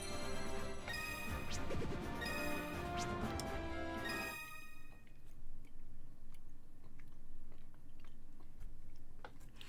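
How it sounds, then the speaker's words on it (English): Close-miked chewing with moist crunches and small clicks, first buried under loud rhythm-game music and then faint and sporadic once the music drops away. "I'm sorry if you could hear me chewing."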